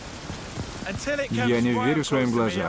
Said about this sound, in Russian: Самый сильный дождь, под который я попадал.